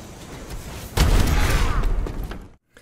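A shotgun firing in Call of Duty: Advanced Warfare multiplayer, a single loud, close blast with a decaying rumbling tail that fades to silence.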